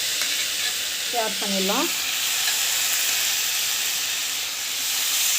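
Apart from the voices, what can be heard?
food sautéing in a pan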